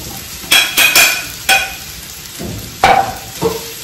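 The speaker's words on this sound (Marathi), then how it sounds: "तर साबुदाणे टाकते" Soaked sabudana (sago pearls) tipped into a hot pan and stirred, producing several sharp clinks and scrapes of a spoon against metal over a faint sizzle, close up, with no voices.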